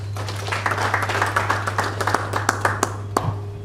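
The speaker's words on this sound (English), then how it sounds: "Please give yourself a very warm round of applause." An audience at the Mobile & Disruptive Technology Forum applauds steadily, with many overlapping claps and sharper individual hand claps standing out over a low steady hum.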